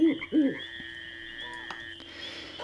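An owl character in the fantasy video game Zanzarah gives two quick hooting calls at the start, followed by a sustained tonal game sound and quiet ambient hum, with no talk.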